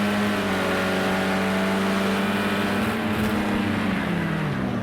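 Race car engine in a Project Cars 2 race at Watkins Glen, a loud, continuous onboard drone holding a steady high-revving pitch that shifts slightly near the end.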